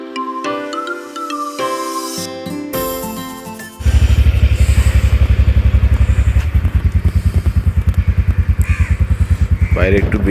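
A motorcycle is wheeled out on a cold, dark morning and started, with clatter and thumps first and then a loud, close engine idling in a steady, rapid pulsing rhythm, over a person talking.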